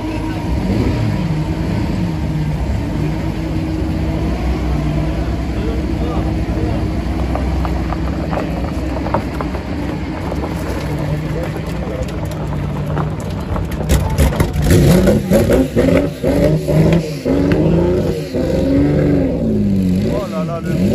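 A concept car's engine turns over and rumbles, then revs in rising and falling surges at an outdoor car show, loud and close, with people talking over it.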